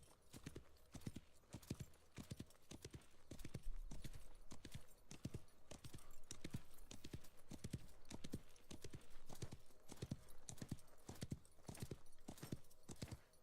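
Horse hooves gallop in steady rapid clip-clop beats in the Wild West Online video game, loud and even throughout with no talk over them.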